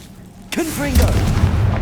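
A Confringo blasting spell goes off in Hogwarts Legacy, a sudden loud boom with a whooshing fiery burst that rumbles on for over a second. A voice calls out over the blast.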